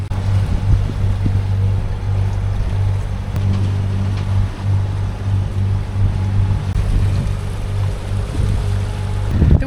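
A sailboat moving through a channel between islands and the mainland off Greece and Turkey, with a steady low engine-like drone, wind rush and water wash, continuous and close, no talk.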